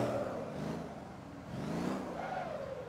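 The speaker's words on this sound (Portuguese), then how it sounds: "Já vou sair cantando pneu aqui na ré mesmo" An in-game car engine in Motor Town revs and drones steadily while the tires spin and burn in reverse, a continuous loud whir rising and falling with no break.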